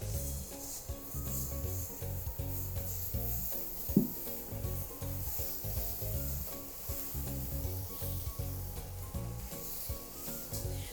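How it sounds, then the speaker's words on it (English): Aromatics and mushrooms sizzle in oil in a pan for risotto, a steady close crackling hiss with scraping stirs throughout and one brief knock midway. "Just a touch more of oil, and then we'll give it another stir."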